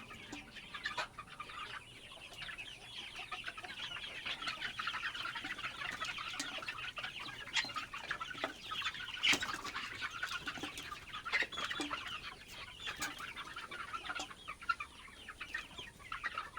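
Sonali chickens clucking in a farm shed while feeding, many overlapping soft clucks and chatter at moderate distance over a low steady background, with occasional sharper pecks and knocks.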